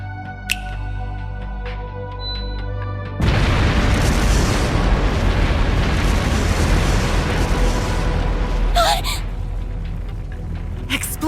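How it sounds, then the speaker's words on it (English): Explosive artifacts scattered through a palace in The Legend of Heroes: Trails Through Daybreak go off in a sudden loud boom, followed by sustained roaring blasts and rumble with a sharp burst near the end. "Explosive artifacts!"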